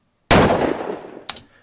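A single loud gunshot sound effect in Pro Tools, a sharp close blast with a long decaying tail, followed by a fainter secondary crack about a second later.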